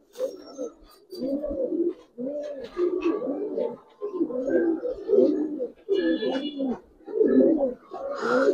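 Giribaz pigeons cooing after a female is released, a steady run of low, rolling coos in close succession, loud and near, with a voice talking over them.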